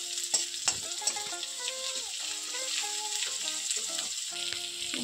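Onions frying and being stirred in a pan for a sweet pumpkin chhokka, steady sizzling with a few sharp utensil clanks near the start and scraping stirs throughout, close and alone with no talk.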